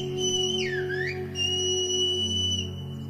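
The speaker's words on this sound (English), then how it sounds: "they whistled, a sound that carried farther." A single person whistles in the whistled language of La Gomera in the Canary Islands: a loud, sustained piercing tone that dips and rises in a swooping glide, then holds steady, over a faint low hum.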